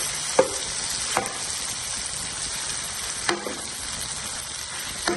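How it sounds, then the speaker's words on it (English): Taro roots frying in a pan while being crushed with a wooden spatula, a continuous loud sizzle with a few knocks and scrapes of the spatula against the pan. "So we are crushing all the taro roots with the wooden spatula"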